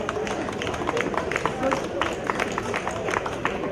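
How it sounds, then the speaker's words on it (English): Applause from the crowd at a regatta prize-giving between rowing clubs, a steady patter of many hands clapping at moderate distance, running under an announcer's voice on a microphone. "A huge round of applause, people."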